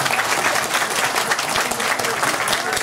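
Audience applause at a Thai Village 2013 event in Bangkok, a dense, steady clapping from a large crowd that fills the whole stretch without pause.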